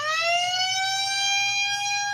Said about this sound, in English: So people described it as being like an air raid siren.